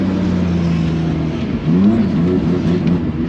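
A BMW E46 runs rough on a racetrack, its engine droning loudly and close from inside the car, the tone wavering and lifting briefly as it revs unevenly.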